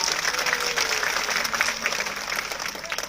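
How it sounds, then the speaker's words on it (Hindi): An audience at a Bhagidari Party rally in Chakia, Chandauli claps in steady, dense applause, moderately loud and continuous throughout, with no talking over it. "एक बार जोरदार ताली बजाइए"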